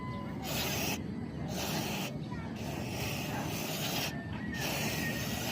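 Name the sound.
spraying CVT/FI cleaner chemical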